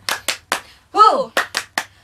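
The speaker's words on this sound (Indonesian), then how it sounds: "Kita mau tepuk semangat dulu. Tepuk semangat." Children's Sunday school does a rhythmic 'tepuk semangat' cheer: three sharp hand claps, a voice calling out in the middle, then three more claps, close and loud in an even beat.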